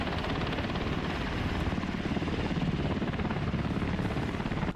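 An MH-60 Seahawk naval helicopter roars steadily and loudly nearby, its rotor thudding in a dense, continuous drone with no talk over it.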